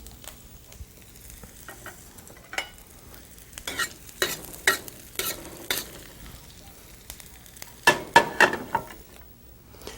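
Curry leaves dropped into a pan with browned cumin seeds in oil, giving sharp bursts of crackling and spitting over a faint sizzle, loudest around the middle and end.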